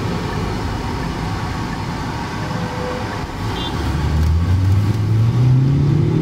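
A Hyundai Alcazar petrol automatic is heard from inside the cabin: a muffled road hum, then the engine note rises steadily as it revs over the last two seconds.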